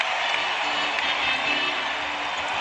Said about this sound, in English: Ovation from this crowd.